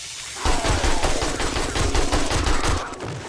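Sustained automatic AK rifle fire in 7 Days to Die, a loud, dense stream of rapid shots close by, running almost continuously with no talking.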